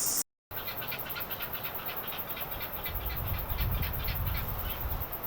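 Harsh, repeated bird cries of seagulls on Matiu/Somes Island over steady outdoor wind noise, fairly close and persistent throughout.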